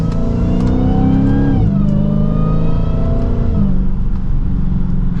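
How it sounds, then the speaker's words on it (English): A loud, close supercharged V8 Dodge Challenger SRT Hellcat revs hard through the gears, its pitch climbing steadily then dropping briefly at each shift, with a supercharger whine over the roar. "Supercharger whine definitely sounds great."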